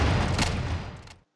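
SMG and grenade fire in Battle Academy 2, a dense, loud burst of gunfire with booming low rumble that fades out within about a second.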